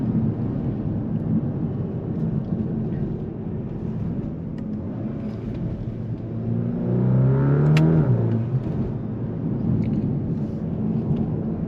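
Volkswagen T-Roc R with a 300-horsepower four-wheel-drive engine accelerating on a road test, with a strong rising surge swelling over a steady road rumble around the middle, then settling back to cruising noise.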